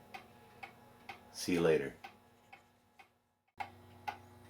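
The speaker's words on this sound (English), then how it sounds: "Clock's been running for 3 days. It's running great." An Ansonia time and strike clock with alarm from around 1900 ticks steadily with sharp, evenly spaced clicks, broken midway by a brief spoken phrase and a short pause.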